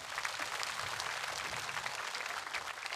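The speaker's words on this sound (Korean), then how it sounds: "두 어른 스님에게 따뜻한 감사의 박수를 부탁드리겠습니다" An audience applauding monks at a large Buddhist memorial ceremony, dense sustained clapping from many hands, steady and somewhat distant.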